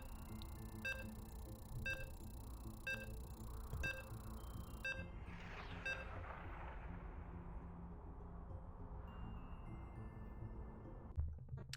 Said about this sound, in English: So you can hear the beeps. We are going to be loading in.